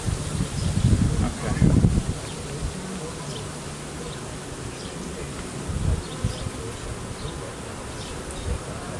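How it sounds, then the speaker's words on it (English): Honey bees buzz around an open hive during a colony inspection, with frames of nectar and fresh comb lifted out. A steady, close drone swells loudest in the first two seconds and then settles into a continuous hum. "I want to drop a frame of bees."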